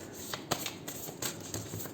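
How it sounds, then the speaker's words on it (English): Tarot cards from the Sacred Indian Tarot deck being shuffled up close, a quick series of soft riffling flutters and light slaps over two seconds, with no voices. "We'll take out one card after 3 shuffles from the Sacred Indian Tarot for your health"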